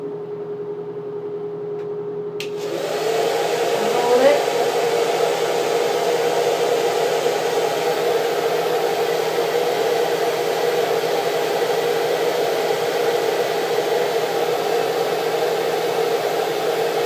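A portable hooded hair dryer switches on after a couple of seconds of near silence, then blows with a steady, loud, even whoosh for the rest of the clip, no voices over it.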